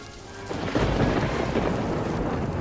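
Heavy rain pours down in a thunderstorm, with a dense, loud hiss of rain and low rumbling thunder that swells after the first half second and keeps going with no voices.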